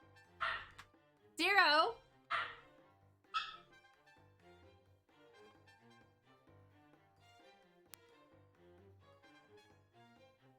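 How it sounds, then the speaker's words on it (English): A dog barks for playtime indoors, with about four close, loud barks and yips in the first few seconds, then a long quiet stretch with faint low background sound. "He was barking for playtime"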